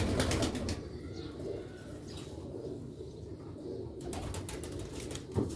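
A female Sialkot roof pigeon beats its wings in rapid bursts nearby, papery flaps at the start and again near the end, with a quieter rustling stretch between and no voices.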